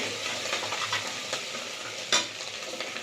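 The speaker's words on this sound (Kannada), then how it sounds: "ಬೆಳ್ಳುಳ್ಳಿ ಸ್ವಲ್ಪ ಫ್ರೈ ಬೆಳ್ಳುಳ್ಳಿ ಹಸಿ ವಾಸನೆ ಹೋಗ್ಬೇಕು" Garlic and ginger fry in oil for a chicken curry, a steady close sizzle broken by light stirring scrapes and one sharper clink of the spoon.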